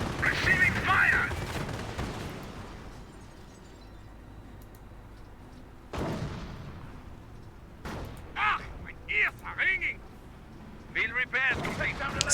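A sniper rifle shot in the World War II strategy game Company of Heroes, sharp cracks and booming battlefield explosions amid distant gunfire, with someone talking over the action.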